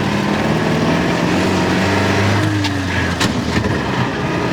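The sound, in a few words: 1929 Austin 7 Chummy engine and clutch while driving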